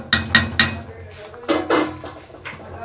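A spoon knocks and scrapes against a cooking pot while a village-style banana stem dish is stirred, giving three quick metallic clinks followed by a few duller scraping strokes, close and fairly loud.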